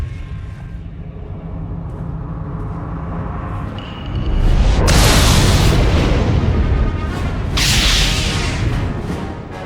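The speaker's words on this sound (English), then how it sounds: "this place is about to explode" Explosion in the video game Star Wars: The Old Republic, as a rumbling background builds into a loud, deep blast with roaring debris, then a second burst a few seconds later.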